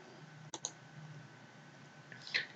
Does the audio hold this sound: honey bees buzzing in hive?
no